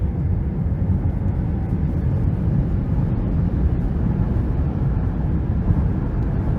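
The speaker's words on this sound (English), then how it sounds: "Let's give it some throttle here." A 2023 Nissan Ariya Empower+ electric SUV pulling away under throttle, heard from inside as a steady, loud low rumble of road and motor noise that holds level throughout, with no talking.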